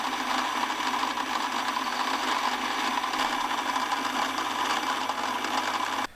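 A lathe tool parts off a 16mm tube for a Mk2 Fiesta exhaust, producing a continuous close whirring machine drone with a grinding edge that cuts off abruptly at the end.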